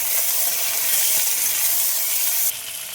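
Fried potatoes sizzle loudly in a pan as a sour fruit and green chillies are stirred in, a continuous bright hiss that drops off abruptly near the end.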